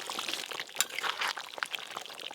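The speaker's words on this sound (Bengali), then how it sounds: "এবার ওপর দিয়ে গরম মশলা গুঁড়ো আর একটু কেওড়া জল দিয়ে দেবো" Kewra water poured over chicken korma, a soft continuous splashing trickle of liquid, close and fairly quiet, with faint kitchen clatter around it.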